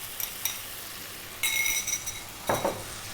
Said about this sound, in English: we're going to get our eggs, we're going to drop them in